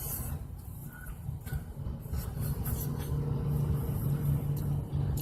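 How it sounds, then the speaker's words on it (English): Road traffic in Sedalia, Missouri, passes by as a steady low rumble of engines and tyres, with vehicles swelling and fading at a moderate distance and no talk over it. "we're in Sedalia, Missouri, watching the traffic go by"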